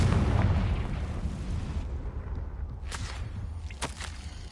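In Hogwarts Legacy, the Confringo explosion spell releases a loud, rumbling blast that fades into a long low roar, with a couple of sharp crackling pops near the end.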